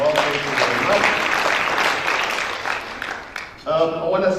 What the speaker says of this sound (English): So a big round of applause to all of our partners as well.